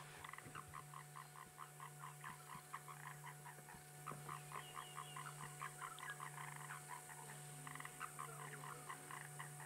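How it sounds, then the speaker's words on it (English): A grey tree frog, also called a foam nest frog, calls repeatedly at sunset in the African bush, a rapid, regular series of rasping croaks at moderate distance over a steady hum of insects. "That's that little grey tree frog or foam nest frog making noise."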